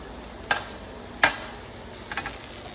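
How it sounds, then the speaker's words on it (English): Asparagus sizzling in a pan during cooking, a steady soft frying hiss broken by a few sharp clinks and scrapes of stirring, with no talking. "you hear that sizzle on the asparagus"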